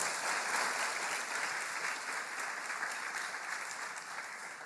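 A church congregation claps steadily for several seconds, a dense, even wash of applause at moderate level with no voices rising above it.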